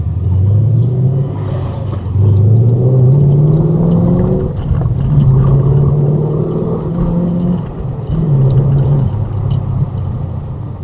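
A car engine revs repeatedly while driving on an icy road. It rumbles loudly and close, rising in pitch through several gears and dropping between shifts, with no speech.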